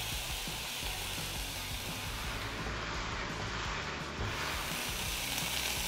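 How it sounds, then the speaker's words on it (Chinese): Chicken pieces pan-fry in a little oil for a cabbage and kombu soup, a loud, dense, continuous sizzle heard close up with no talking. "我们把鸡肉放下去，先把鸡肉煎香"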